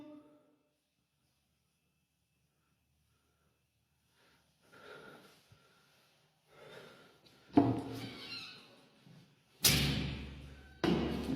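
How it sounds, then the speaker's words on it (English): Inside a quiet, dark room, a door slams shut with heavy force, heard as several sharp, loud thuds amid faint knocks and shuffles after a long near-silence. "A door slamming shut with that much force"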